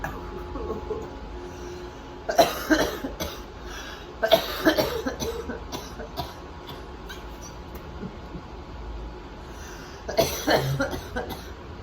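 Several bursts of harsh coughing come in clusters, separated by quieter stretches with faint room noise.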